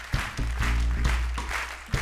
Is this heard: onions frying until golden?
no